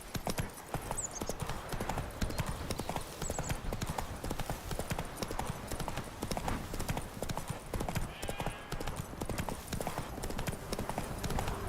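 Roach, a horse in The Witcher 3, trots along with steady clip-clopping hooves throughout, a continuous close rhythm over faint game ambience.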